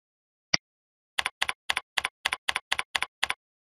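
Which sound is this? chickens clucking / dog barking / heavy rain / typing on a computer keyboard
typing on a computer keyboard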